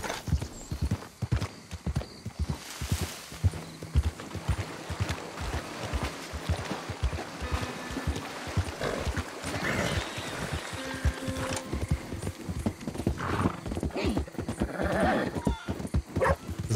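A horse in Red Dead Redemption II galloping cross-country through alligator-infested terrain, its hooves beating a fast, steady clip-clop rhythm close by, with occasional snorts and brief game sounds.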